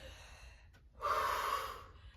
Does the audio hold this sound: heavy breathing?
yes